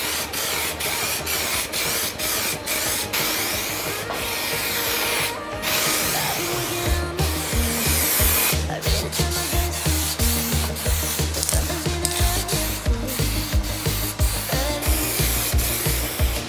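Aerosol spray paint hisses in repeated short bursts onto the bumper of a Ford Sierra Sapphire RS Cosworth during an amateur paint job, with a few clicks and rattles between passes and no talk.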